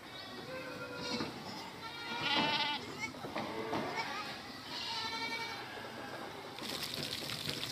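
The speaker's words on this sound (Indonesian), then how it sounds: "Wah, ternyata di sini ada kambing." Goat bleats several times in short wavering calls under a busy mix of chatter and children's voices, with bursts spread through the scene.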